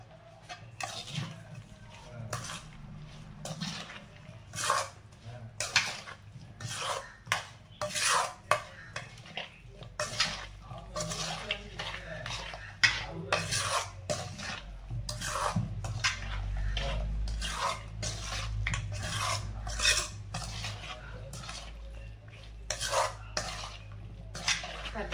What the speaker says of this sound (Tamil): நல்லா மிக்ஸ் பண்ணியாச்சு ஆயிலாம் ஊற்றி